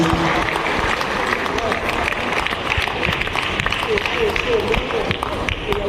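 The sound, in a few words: audience applause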